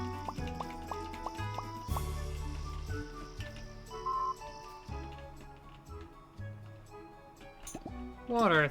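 Water filling glass bottles in the video game Moonstone Island, a quick run of bubbly rising gurgles near the end over a looping game music background, with a few short dripping ticks earlier.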